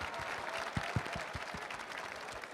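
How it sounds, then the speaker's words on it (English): An audience at a comic convention panel applauds two comic artists with steady, dense clapping that fills the whole stretch at moderate distance, with no talk. "Can we have a round of applause, please, for Gabriel and Fabio?"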